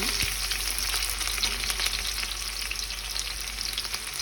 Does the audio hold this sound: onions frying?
yes